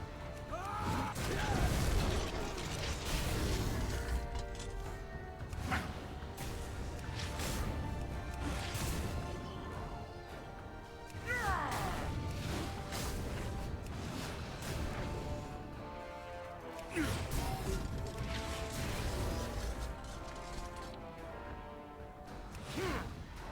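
Mechanical contraption blasting an enemy in a fantasy video game battle: dense, continuous clanking machinery and crashing impacts with whooshes and metallic scrapes, loud and busy throughout, surging in a few heavy hits.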